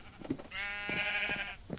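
Sheep bleating inside a video game, a single long harmonic bleat lasting about a second, fairly close and clear over faint background noise.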